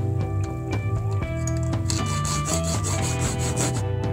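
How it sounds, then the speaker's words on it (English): A small hacksaw cuts through the glued-in centre piece of a Rubik's Cube, giving close, steady back-and-forth rasping strokes in a quick even rhythm with no talk. "so now we're going to have to cut it off with a little hacksaw."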